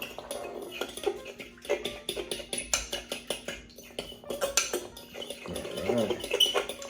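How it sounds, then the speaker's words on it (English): Pecan pie tart filling is mixed in a bowl, a close, rapid run of clinking and scraping utensil strokes against the bowl in an irregular rhythm. "now we're going to give that another good old mix up here"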